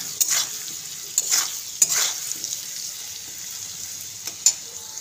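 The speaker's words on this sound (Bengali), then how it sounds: "ওতে দিয়ে দেবো হালকা একটু লবণ, হলুদ দিয়ে ভালো করে নেড়ে চেড়ে নিতে হবে লাল করে" Potatoes sizzle in a pan with salt and turmeric while a spatula stirs them, giving a steady close hiss broken by several sharp scraping strokes.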